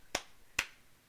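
Two sharp, bright hand claps land about half a second apart, close and alone in a quiet room.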